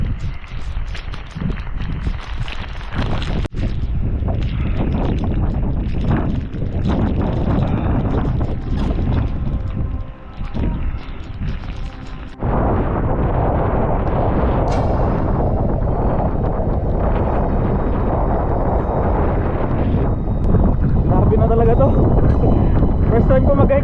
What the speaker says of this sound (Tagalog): First time ko mag-hike ng ganito kalakas yung hangin tsaka ulan.